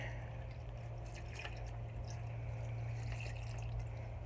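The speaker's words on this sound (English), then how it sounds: "I got the last bit of apple cider here. Pour it in there." Apple cider trickles and drips steadily into turkey brine in a container, a faint, continuous pour over a low background hum.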